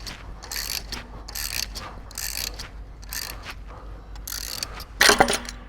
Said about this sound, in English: 4-inch 3-jaw puller for the win, I guess.